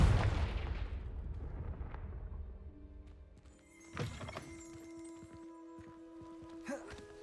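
Confringo fire spell cast in Hogwarts Legacy, a sharp burst with a blast around the middle, followed by ringing magical tones and a smaller hit near the end, fairly quiet overall.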